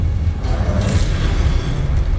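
The Incendio fire spell in Hogwarts Legacy sounds as a loud, dense, low rumbling roar that holds steady for about two seconds, with a brief whooshing flare partway through.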